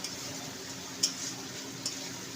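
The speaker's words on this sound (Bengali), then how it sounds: "হাফ স্পুন চিনি চিনি দিয়ে ভালো করে নেড়ে নিয়ে" A steady frying sizzle rises from prawn malai curry in a pan as it is stirred after sugar is added, with two sharp spoon taps against the pan.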